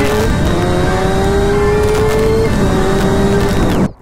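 A Suzuki GSX-R 1000 litre-class superbike engine revving hard in its fastest mode, a loud, close, rising howl with a shift partway through, then the note climbs again and cuts off sharply at the end.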